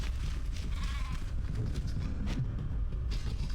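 Sheep bleating in the game RIFT, in the Planetouched Wilds zone, a faint wavering bleat heard over a dense, rumbling ambient game soundscape.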